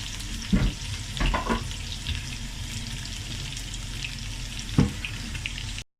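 Onions sauté in a pan with red chili paste, sizzling steadily while a spatula scrapes and knocks a few times, the loudest strokes early and near the end before the sound cuts off.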